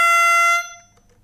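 One loud note on a toy saxophone, bright and brassy with a buzzy edge, held steady for about half a second before cutting off, followed by quiet.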